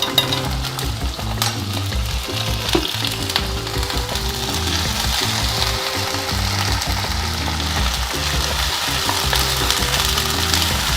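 Ginger garlic paste sizzles and fries loudly in a hot pan while cooking a banana stem dry curry, a dense continuous crackle with stirring scrapes, close and alone.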